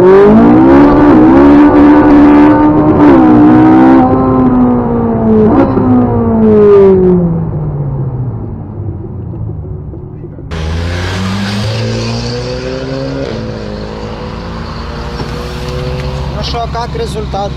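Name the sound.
drag race car accelerating from standing start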